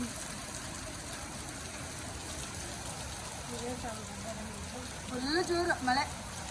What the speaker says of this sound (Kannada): ಫುಲ್ ಜೋರು ಮಳೆ.